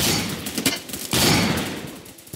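Gunfire in the video game Phantom Forces: a burst of overlapping shots at the start, a short lull, then a second loud volley around the middle that tails off, dense and close with no talk.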